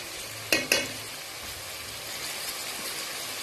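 Chana daal frying in a pan as coriander powder goes in, a steady sizzle with two sharp stirring scrapes near the start and softer movement after, close and with no voices.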